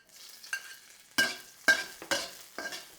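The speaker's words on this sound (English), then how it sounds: "Fry it for half a minute until it gets a bit golden brown." Ginger and a spring onion stem frying in a pan for a biang biang noodle dish, with a steady soft sizzle broken by four or five sharp scraping strokes of a utensil, close and fairly quiet.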